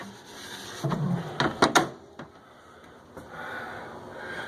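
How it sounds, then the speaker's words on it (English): Soft-close galley drawers on a Hanse 385 sailboat, with several quiet slides and muffled thumps clustered together at close range in a hushed cabin. "The drawers have the nice close option."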